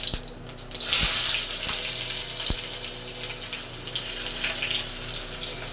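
Chopped onions drop into hot oil in a wok and fry with a steady, close hiss and crackle, a few sharp clinks of a utensil against the pan near the start.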